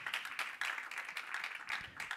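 A church congregation applauding for the Lord, a steady, dense wash of many hands clapping together, fairly close and sustained without pause.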